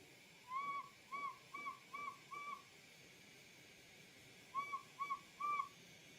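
A hot glass piece whistles during glassblowing, giving out a faint series of short, clear whistle bursts. About five come in a row, then a pause, then three more, over a quiet background with no talking.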